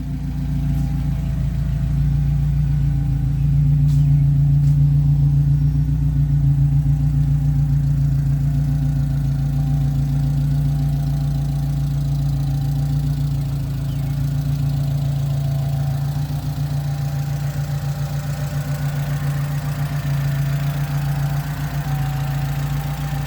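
Steady, loud idle of a 1974 BMW 2002 engine, a continuous low rumble with an even pulsing rhythm that holds unchanged throughout, close by and alone.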